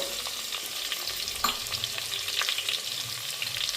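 Mustard seeds, cumin and chopped garlic fry in hot oil with a steady crackling sizzle, sharp pops and spatters breaking through, close and moderately loud without any voices.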